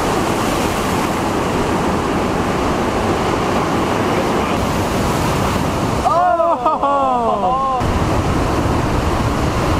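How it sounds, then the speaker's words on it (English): Massive ocean waves crash and roar against rocky coastline in a loud, continuous broadband surge, with a chicken crowing briefly near the end over the surf. "These waves out here are absolutely massive."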